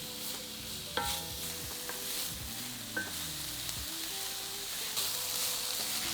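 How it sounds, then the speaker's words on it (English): Diced onion, carrot, celery and roughly chopped red pepper sizzle steadily in a cast iron pan, with a spoon scraping and clacking as the vegetables are stirred often; the frying hiss stays close and constant throughout. "add a finely diced onion, carrot and stick of celery, and a roughly chopped red pepper, and cook for about 5 minutes, stirring often until the onion softens"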